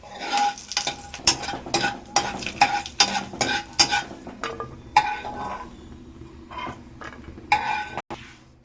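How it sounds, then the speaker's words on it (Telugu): Dry fruits fry in ghee in a pan for pumpkin halwa, with repeated scraping stirs, spoon clinks and a soft sizzle, close and fairly loud, with no talk. "డ్రై ఫ్రూట్స్ కొంచెం బాగా వేగి మనం తర్వాత తీసి పక్కన పెట్టుకోవాలి"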